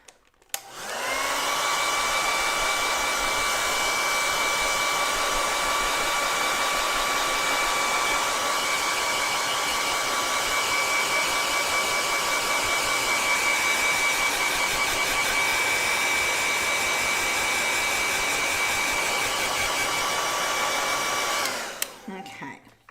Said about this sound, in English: I can dry it with a hairdryer